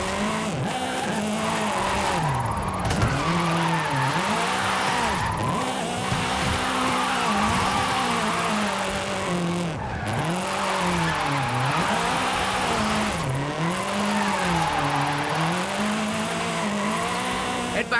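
A car drifts in Forza Horizon 5 at Drift Club Mexico, its engine rising and falling in repeated revving swells while the tyres squeal steadily throughout, loud and continuous.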